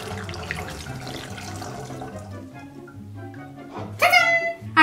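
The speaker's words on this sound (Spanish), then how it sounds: "pongo un embudo y ahora ya puedo verter todo el agua" Water poured through a funnel into a small-necked bottle, a brief rushing trickle rising near the end over a steady musical backing.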